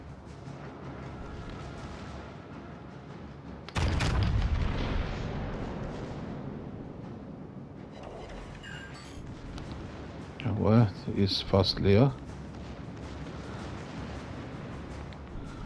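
Yamato battleship main guns firing in World of Warships: a sudden heavy blast that rumbles and decays over several seconds, then a cluster of sharp booming shots, with someone talking briefly over the battle noise.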